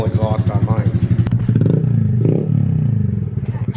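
A 2020 Honda Grom motorcycle with a Hindle exhaust idles with a rapid, throbbing pulse, then revs and pulls away, its engine note rising loud and close before settling into a steady drone as it rides off.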